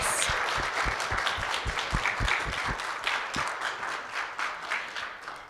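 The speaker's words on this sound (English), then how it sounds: "Can we have one more round of applause for all of our graduates and puppy raisers" Applause from an audience at a guide dog graduation ceremony for blind handlers and puppy raisers, steady clapping sustained throughout with sharp individual claps near the microphone.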